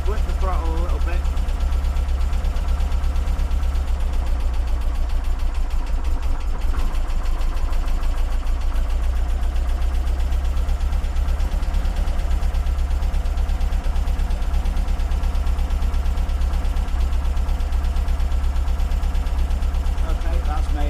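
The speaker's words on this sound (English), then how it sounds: "I'll just blink the throttle a little bit." A Porsche 914 engine fed by twin Weber carburetors idles loudly and steadily with a deep low rumble, its throttle blipped lightly for a moment partway through, with someone talking briefly over it near the start.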